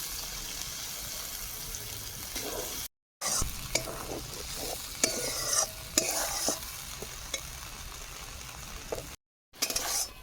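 A spice paste of poppy seed, melon seed, cashew, red chili powder and turmeric sizzles in a pan under frequent scraping stirs and light clinks, with two brief silent gaps.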